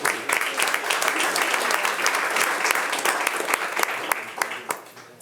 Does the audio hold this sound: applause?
yes